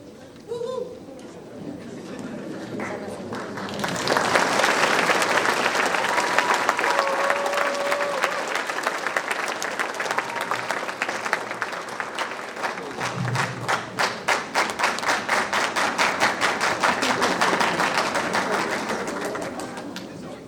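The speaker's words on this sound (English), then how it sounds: "Thank you for the applause." Audience applause at a high school graduation ceremony, swelling from quiet murmur into sustained loud clapping from a large crowd that holds steady for many seconds before easing slightly.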